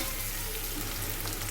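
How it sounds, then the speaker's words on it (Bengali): Spices sizzle steadily in hot oil in a pan during slow frying for a Bangladeshi taro-stem curry, a close, continuous hiss with no speech. "আমি এটাকে ভালো করে কষিয়ে নেব।"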